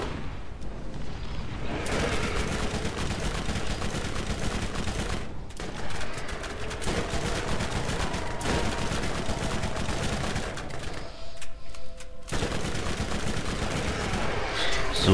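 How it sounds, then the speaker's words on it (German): Dense, continuous gunfire and grenade blasts from the video game Borderlands rattle on at close range, with heavy bursts of rapid shots and booms that briefly drop out twice before resuming. "Ich schick mal ein paar Granaten hin."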